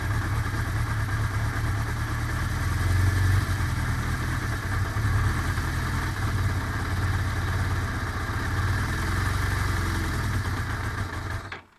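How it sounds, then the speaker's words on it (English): A Suzuki GS 550 motorcycle with a choke that does not work and a rich-running engine idles loudly and steadily up close, its low throbbing holding for about eleven seconds before the engine cuts out abruptly. "I pull the choke really slowly and it should rev up, but it doesn't."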